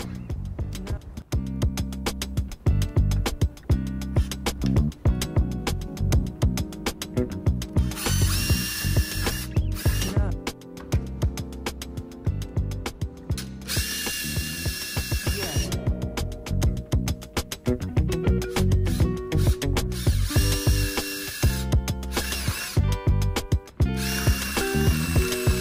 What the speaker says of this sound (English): I'm gonna go ahead and just ream it out with this drill bit